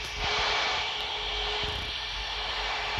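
Concorde jet engines in the PTFS flight game, a steady loud roar with a broad hiss that holds constant for a few seconds, no voices over it.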